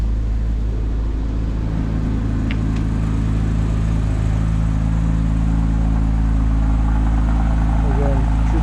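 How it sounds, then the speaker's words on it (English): A 2007 Porsche Cayman with a 5-speed idles steadily nearby, a low continuous rumble with a faint higher whir and no revving, heard alone without talk. "Again, traditional Porsche Cayman sound, as you would anticipate."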